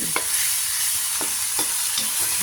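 Adobo being stirred and sautéed in a pan in coconut milk, a loud close sizzle with a few quick scraping strokes of the spoon across the pan.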